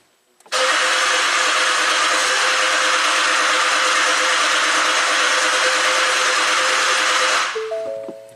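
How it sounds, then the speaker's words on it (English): A Ford Explorer V6 with a no-start fault cranks steadily for about seven seconds without catching, a loud, even starter churn that cuts off abruptly at the end. "Okay, again, crank no start."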